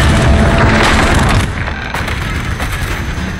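A missile impact in Call of Duty: Modern Warfare lands as a loud, dense roar of blast noise, strongest in the first second and a half, then settling into a rough, rumbling tail.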